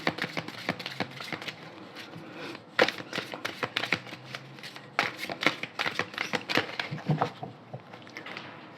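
Oracle cards are shuffled and cut in a steady run of close, crisp riffling taps and slaps, with no voices heard.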